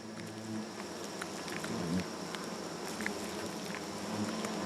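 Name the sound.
giant hornet workers chewing meat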